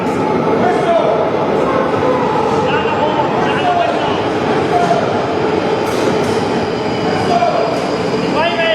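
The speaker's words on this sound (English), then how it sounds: "the next train that's going to make an appearance is going to be a Northern Line service to High Barnet" A London Underground Northern Line train bound for High Barnet rolls into the station, a steady loud rumble of wheels with intermittent squeals and clicks throughout, and voices on the platform mixed in.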